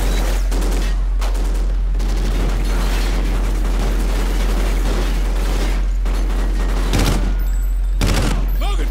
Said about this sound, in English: Shit, grenade, grenade,